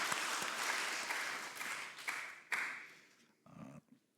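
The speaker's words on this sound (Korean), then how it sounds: "우리 격려의 박수, 응원의 박수 해주시겠습니다" Church congregation applauding during a Sunday service, a dense wash of clapping that thins out and fades, ending in a few scattered claps and a brief low sound.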